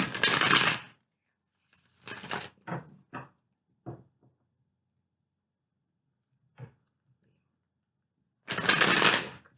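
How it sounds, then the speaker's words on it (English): Tarot cards being shuffled in quick riffling bursts, separated by short taps and pauses, close and crisp, with no talking. "Okay, 2 more shuffles."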